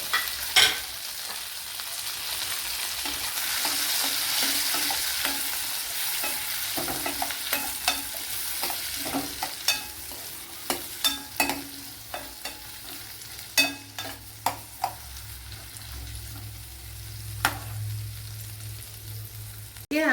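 Carrots and capsicum stir-fry in a pan for a veggie masala, a close hissing sizzle with repeated sharp spatula scrapes and clacks, growing more rhythmic toward the end.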